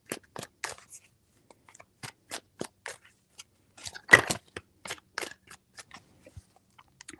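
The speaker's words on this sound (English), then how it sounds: "Four shuffles." Tarot cards are shuffled by hand in a run of short, crisp riffling and tapping bursts, close and fairly quiet, with one louder flurry midway and no talking.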